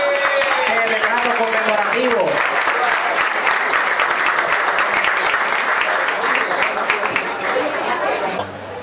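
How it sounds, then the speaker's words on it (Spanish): Strong, sustained audience applause at an award ceremony for a mountain bike event in La Parguera, a steady loud wash of clapping mixed with crowd chatter and some laughter, easing off at the very end. "vamos a dar un fuerte aplauso."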